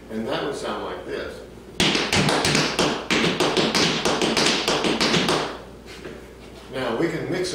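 A long, fast run of crisp Ozark jig dance foot taps and heel strikes on a wooden floor, close and steady in rhythm, fading back to quiet at the end.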